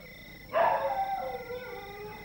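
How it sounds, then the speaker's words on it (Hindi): A dog guards a farm field at night, giving one long, loud howl that opens sharply and slowly fades, with nothing else heard. "हाँ भौंक जरा भौंक, देख जरा कोई गीदड़ वीदड़ ना घुसने पाए खेत में।"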